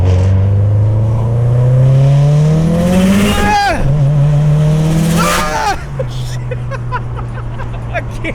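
A turbocharged Subaru STI engine with over 600 wheel horsepower revs hard and climbs high, rising steeply twice with sharp pitch sweeps, then drops to a lower idle growl; loud and close.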